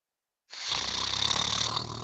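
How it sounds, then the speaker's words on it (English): A person snoring during a casual talk-show style chat, a steady continuous rasping drone that starts abruptly and holds loud and close with no talk over it. "Somebody snoring."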